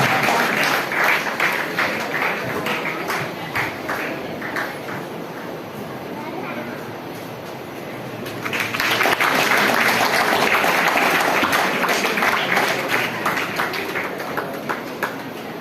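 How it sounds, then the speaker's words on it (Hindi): An audience at a Hindi speaking event claps for a teacher, sustained and dense throughout, easing slightly midway and then swelling louder again, with some voices blended in. "जोरदार तालियां अपने शिक्षक के लिए, अपने अध्यापक के लिए"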